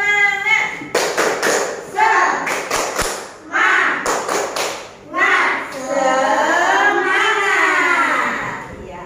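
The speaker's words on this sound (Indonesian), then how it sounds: "mari kita tepuk semangat dulu ya" A primary classroom of children doing a rhythmic 'tepuk semangat' spirit clap, with short bursts of sharp, close claps in patterned groups between loud chanted voices, ending in sustained sing-song children's chanting.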